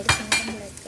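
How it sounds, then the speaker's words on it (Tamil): Potatoes being stir-fried in a pan for a poriyal: two quick metallic clinks and scrapes of a utensil against the pan, close and fairly loud, with a faint frying sizzle underneath. "உருளைக்கிழங்கு நல்லா ஃப்ரை பண்ணுறேன் பாருங்கள்"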